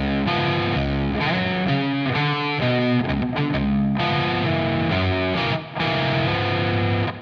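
Slow distorted electric guitar riff, the second half played deliberately with sustained chords and slides, loud and continuous with a brief dip near the end, no voice.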